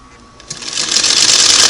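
A Singer Model 301 sewing machine stitching with an automatic zigzagger attachment, starting up after a soft click and building to a loud, close, steady whirring run.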